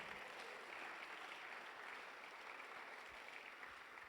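A church congregation applauding during a Sunday morning service, continuous even clapping heard faintly from a distance without pauses.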